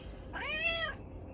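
A pet cat gives one clear, drawn-out meow close by before being fed, heard alone against a quiet room.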